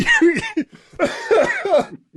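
A person coughs repeatedly in a rough, close fit, several harsh bursts with short gasps between them.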